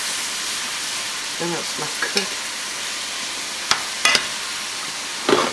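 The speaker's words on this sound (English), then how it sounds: "you're going to stir it around. And you're going to let all this cook." Ground meat for stuffed manicotti cooks in a pan with a soft, constant sizzle, broken by a few sharp stirring clacks and scrapes, while a person speaks briefly.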